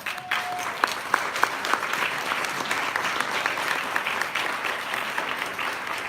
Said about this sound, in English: So please give an applause for them.